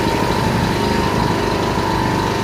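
Yamaha EF1000is generator engine running steadily with the fuel turned off, burning off the carburetor bowl; a close, continuous droning hum with a constant whine and no speech.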